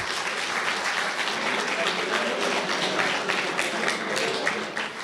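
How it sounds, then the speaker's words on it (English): An audience at a darts match applauds with a dense, sustained burst of clapping, steady and full throughout, with some voices mixed in beneath it. "Big applause for Marko Lakicevic, ladies and gentlemen."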